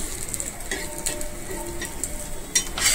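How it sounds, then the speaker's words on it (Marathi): A bread omelette toasts in a pan, soft steady sizzling with occasional light clinks and scrapes of a spatula against the metal. "हे बघा मस्तपैकी असं दोन्ही साईडून शेकून मस्तपैकी असं घ्यायचं आहे."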